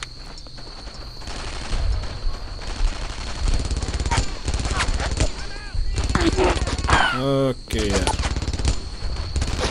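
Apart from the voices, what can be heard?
gunfire in the video game Brothers In Arms: Earned in Blood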